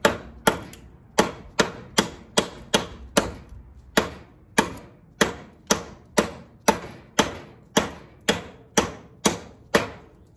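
A United Cutlery Black Ronin knife hacks into a door, delivering about two dozen sharp, close chopping impacts in an uneven steady rhythm, each a hard crack with a short decaying ring.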